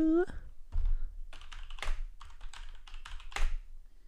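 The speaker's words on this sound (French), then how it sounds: "Je prends mon clavier de gamer." Keys on a gaming computer keyboard are struck in short bursts of several clicky taps, with small pauses between them, close to the mic and fairly quiet. A brief voice is heard at the very start.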